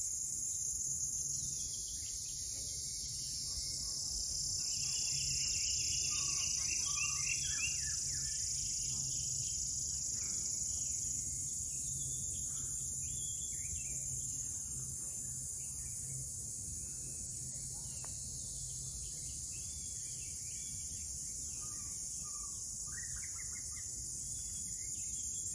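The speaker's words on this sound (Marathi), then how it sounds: "सुंदर सुंदर पक्षी आणि रातकिड्यांचा आवाज आहे." Crickets and birds call in a dense Konkan forest at evening. A steady shrill cricket drone runs throughout, with scattered bird chirps and calls on top, fairly faint and with no talking.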